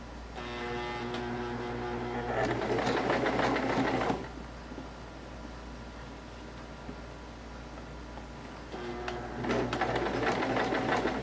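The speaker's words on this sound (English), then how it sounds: "you're going to top stitch close to the edge" Sewing machine top stitching close to a fabric edge on a dressmaking toile, two steady whirring runs of motorized needle clatter separated by a quieter pause, close and alone.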